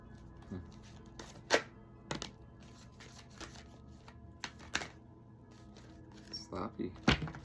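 Tarot-style oracle cards being shuffled by hand in a quiet room, several quick irregular riffling and slapping bursts, close and fairly soft.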